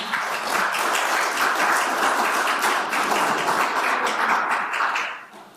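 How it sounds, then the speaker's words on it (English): Applause from the audience at a Paso Robles city council meeting: steady clapping from many hands for about five seconds, then fading out, with no talk over it. "And thank you for your applause, but it's really not necessary."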